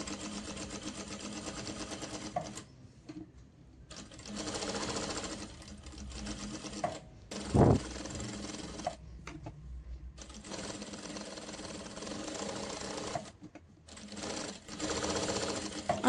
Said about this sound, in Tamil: வச்சுட்டு இப்போ தைக்க ஆரம்பிக்க போகிறேன்.